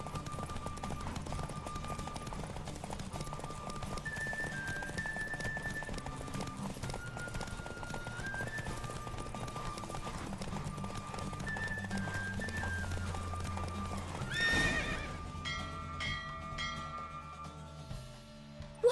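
Steady clip-clop of a horse's hooves galloping in a race in The Witcher 3: Wild Hunt, under a light musical melody, the rhythm running continuously until a brief clatter near the end.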